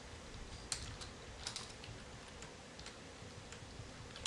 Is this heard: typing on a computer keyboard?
yes